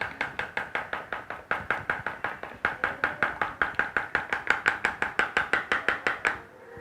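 Homemade cold cream being stirred continuously in a bowl, giving a steady run of quick, evenly spaced scraping taps, about five per second, close and moderately loud with no talk.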